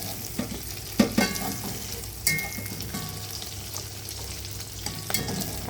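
Food frying and sizzling in a pan during a home stir-fry with chicken, with scraping stir strokes and a few sharper hissing bursts, steady and close with no talking.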